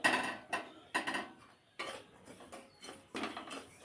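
Rice flour frying in a pan is stirred steadily, a metal utensil scraping and clanking against the pan in repeated rhythmic strokes, close and fairly soft.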